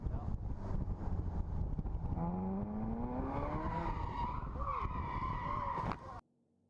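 A race car in a racing video game slides wide into a tire-squealing skid over engine noise, the rising squeal sweeping upward before the sound cuts off abruptly.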